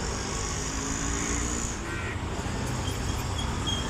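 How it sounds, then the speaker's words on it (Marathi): Crows and other birds call outdoors in the early morning over a steady hum of distant traffic, with a few faint caws standing out briefly. "चहूबाजूकडून पक्ष्यांचा आवाज येतो,"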